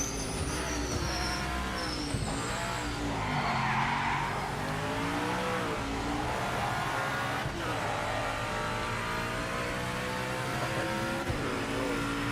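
A race car in Project Motor Racing skids off the track, its tyres squealing in long wavering tones over a constant loud engine drone that rises and falls, close and continuous throughout.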